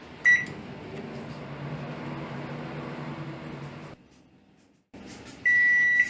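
A microwave oven set to 600 W runs with a steady close hum after a short beep, cuts out briefly near the end, then resumes, closing with a long sustained beep while baking cupcakes.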